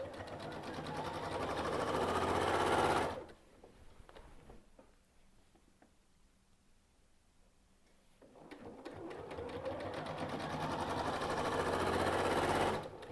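A sewing machine stitches binding onto the front of a quilt, running in two steady bursts near the start and end with a quiet pause between, close and clear with no talk.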